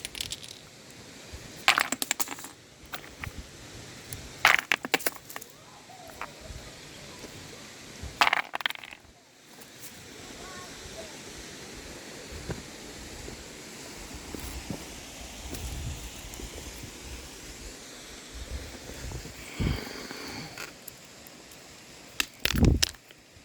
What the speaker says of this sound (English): Hear the sound of the Ignimbrite.